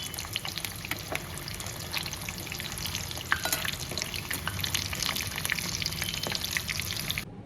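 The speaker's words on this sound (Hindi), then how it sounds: "गोल्डन ब्राउन होने तक मैं इन्हें फ्राई करूँगी।" Boiled baby potatoes pricked with a fork frying in hot oil until golden brown, a steady close sizzle and crackle with occasional stirring scrapes throughout, no voices.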